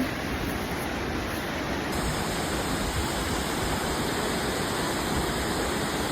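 Tinago Falls in Iligan roars as a steady, dense rush of falling water, loud and unbroken throughout, with no talk.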